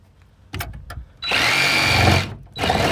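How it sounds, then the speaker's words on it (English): Power tool cutting out plastic speaker mounting rings in a Toyota Celica, a few short bursts followed by a long steady grinding run, then another starts at the end. "get a saw or a file. You just got to cut these rings out."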